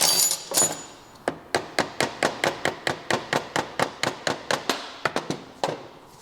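A hammer taps a part off a Vespa P200e scooter engine during teardown, a fast, even series of about twenty sharp metallic knocks, close and loud, after a brief rattle at the start.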